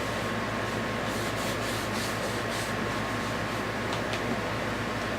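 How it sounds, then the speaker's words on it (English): Cloth or applicator rubbing cleaner into a radio-controlled car part, a steady close scrubbing and rubbing hiss that runs continuously with faint brushing strokes and no talk. "just rub it in all directions and be sure that it really takes there."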